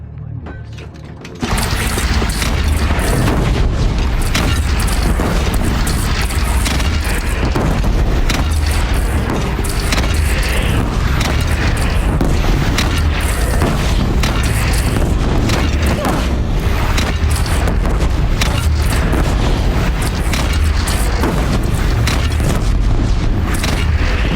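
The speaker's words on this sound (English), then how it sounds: "They only have one cannon!" Heavy cannon fire and explosions from a bandit battle in the video game Horizon Zero Dawn, a dense, continuous barrage of booms and mechanical clatter that starts after a brief quiet moment and stays loud throughout.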